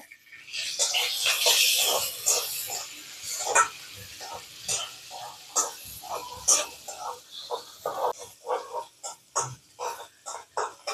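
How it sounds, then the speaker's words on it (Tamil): Onions stir-fried in a pan for a fenugreek leaf gravy, a sizzling hiss with repeated scraping stirs in an irregular rhythm, close and moderately loud, with a voice talking over parts of it. "கொஞ்சம் ஃப்ரை ஆகட்டும்"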